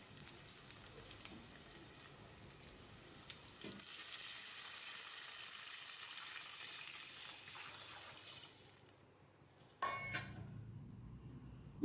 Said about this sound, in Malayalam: അതിനും വേണ്ടി ഞാൻ ഒരു പാത്രം വെള്ളം ഇതിലേക്ക് ഒഴിച്ചു കൊടുക്കുക.